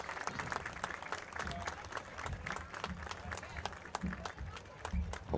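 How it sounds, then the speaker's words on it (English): A crowd at a high school football semi-final claps in a dense, steady patter of applause, heard from a distance and faint, with voices mixed in. "the whole crowd claps here"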